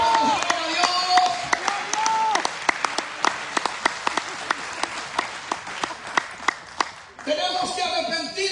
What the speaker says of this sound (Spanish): Un aplauso, bonito, aplauso a Dios